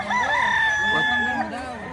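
A rooster crows at a chicken market in Lipa, Batangas, one drawn-out, wavering call lasting about two seconds, close and fairly loud, with faint market noise behind it.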